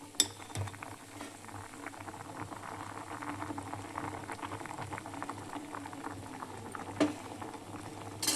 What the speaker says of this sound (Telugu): ఇలా బాయిల్ అయిన తర్వాత